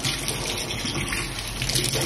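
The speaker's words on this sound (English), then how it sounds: "I'm just going to rinse everything off." Water running steadily from a tap while surfaces are rinsed in an empty apartment in Kenya, a continuous close, full gushing rush with no talking.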